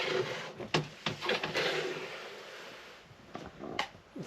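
An interior sliding door in an Airstream caravan is opened close by: a few knocks and clunks, then a brief rolling scrape, and a couple of sharper taps near the end, with no one talking.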